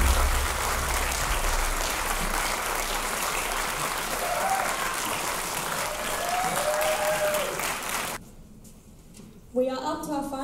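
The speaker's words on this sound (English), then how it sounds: "Can you please give these wonderful people a round of applause?" An audience at a school end-of-year music concert in a hall claps in sustained, dense applause that holds steady, then drops away near the end before a voice briefly begins.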